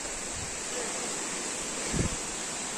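Water pours steadily at the Ilomska waterfalls among rocks and forest, a broad continuous roar heard up close with a brief rumbling gust near the end.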